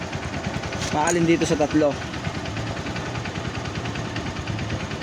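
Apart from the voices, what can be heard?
electric motor running during stator test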